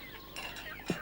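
A rooster in a farmyard gives a short cluck, one brief throaty note near the end of a quiet moment.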